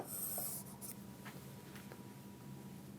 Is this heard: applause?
no